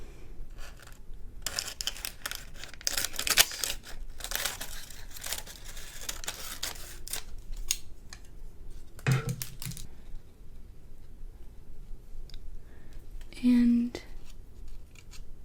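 Scissors snip through a sheet of parchment paper with a crinkling rustle, several short cuts close up under soft spoken talk.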